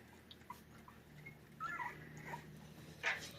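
Puppies whimpering softly indoors, a few faint high whines and yips scattered over a low background hum, with one louder cry near the end.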